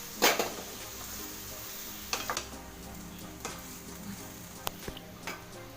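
Grated sweet potato is stirred and sautéed in a pan for a sweet potato payasam, giving a soft steady sizzle broken by scattered scraping and clinking strokes of a spoon against the pan, close by with no talking.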